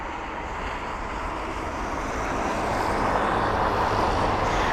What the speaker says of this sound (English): And Ashley, the Cathay jet is right there